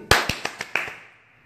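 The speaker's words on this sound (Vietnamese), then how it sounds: "Tiếng mình vỗ tay lúc nào bẹt bẹt bẹt bẹt bẹt bẹt này" A few sharp hand claps ring out close by in a brisk rhythm, five or six in all, each with a short ringing tail, then fade into quiet.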